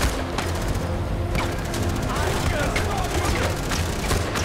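Rapid gunfire crackles through a Far Cry 4 firefight in loud, irregular bursts and sharp single shots, layered over a busy game soundscape with voices talking throughout.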